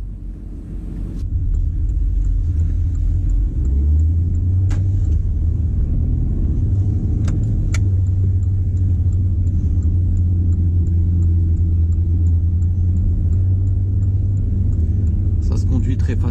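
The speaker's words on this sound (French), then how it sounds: "on va aller rouler un petit peu, voir ce que ça donne sur la route" A Porsche Cayenne drives on the road, its engine a steady, loud low rumble inside the cabin that settles into an even cruising drone, with a few faint clicks and a voice talking over it.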